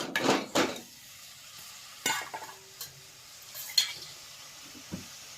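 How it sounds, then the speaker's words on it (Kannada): Chopped ridge gourd is tossed into a kadai and stirred over the heat: scattered scraping and metallic clinks over a faint, light sizzle, with short gaps between strokes and no talking. "ಅವಾಗ ಕಡಾಯಿ ಇಟ್ಟನ್ರಿ ಈಗ ಇವಾಗ ನೋಡ್ರಿ ಹೀರಿಕಾಯಿ ಇವಾಗ ಹಾಕ್ಲತ್ತೀನಿ ನೋಡ್ರಿ"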